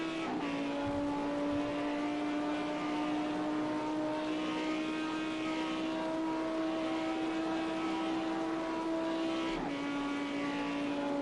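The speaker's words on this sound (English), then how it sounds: "hear the roar of these engines come past" GT3 race car engines at Spa, a continuous loud droning roar that holds a steady pitch for about nine seconds and then drops as the cars pass trackside, with no talk.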